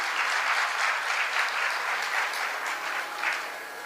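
An audience at a Hindu devotional discourse breaks into dense, sustained applause, steady and fairly loud throughout with small swells.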